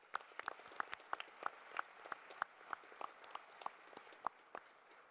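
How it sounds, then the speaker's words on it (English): Scattered, sparse applause from a conference audience honouring panelists at the Africa Investment Forum opening session, with individual claps popping distinctly at a quiet, moderate distance. "please can you give a round of applause for my esteemed panelists"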